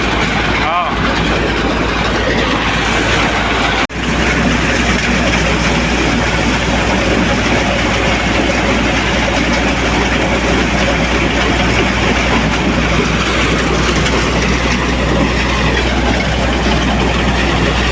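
A soybean thresher machine runs in a farm field, a loud, dense, continuous mechanical roar close up that holds steady throughout, with a voice speaking under the noise.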